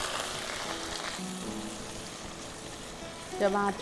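Garlic paste and chopped tomato hit hot oil tempered with fennel, mustard seeds and nigella seeds, giving a steady, moderate sizzle that swells near the end as they land in the pan.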